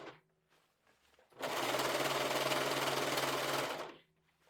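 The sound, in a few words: sewing machine sewing skirt into dress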